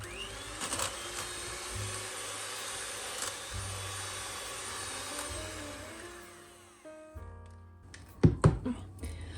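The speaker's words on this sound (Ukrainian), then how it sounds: "Спочатку я цукор трішечки зволожую і починаємо збивати." An electric hand mixer whips sugar, lightly moistened, with an egg for a cottage-cheese Napoleon cake batter, a steady close motor whir with a shift in pitch before it cuts off, followed by a few handling clatters.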